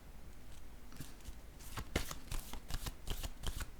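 Playing cards shuffled by hand in a quiet room, soft riffling at first, then a run of crisp, loud riffle bursts and flicks close by, with no talking.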